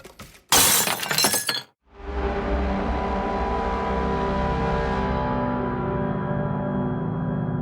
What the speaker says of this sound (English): They smashed the paintings on the floor to remove the glass